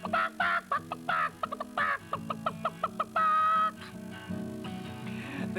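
A hen clucks in a rapid run of choppy calls, then lets out a longer drawn squawk before more clucking, close and loud.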